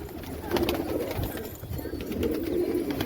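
Pigeons cooing steadily in a loft in a low, throaty murmur, with a crowd of birds overlapping and faint rustling and flutter around them.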